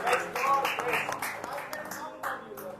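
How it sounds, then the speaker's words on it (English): A church congregation claps in appreciation during a worship service, a scattered patter of hands that thins out toward the end, partly blended with a voice. "Can we just give a clap, just appreciate Him."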